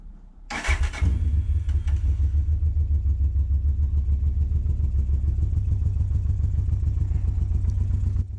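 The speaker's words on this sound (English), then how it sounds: "let's turn the fuel on and start the bike" A Honda motorcycle engine cranks and catches, then settles into a steady, close, throbbing idle with a light mechanical clatter, no voices over it.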